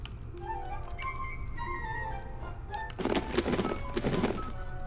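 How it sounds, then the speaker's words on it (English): A bird-like Nutcracker sound effect plays from a Fortnite WinterFest gift, a few chirpy, cooing tones followed by two louder rustling bursts over a steady low game hum. "it's like a bird. Sounds like that Nutcracker bird"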